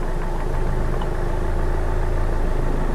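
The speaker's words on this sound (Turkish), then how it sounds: "Aracınızın motor sesinde böyle bir azalma olacak." A car engine runs close by as the clutch is eased to its biting point for a hill start, a steady low mechanical hum with a slight throb and no talking.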